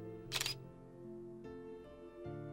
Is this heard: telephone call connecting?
no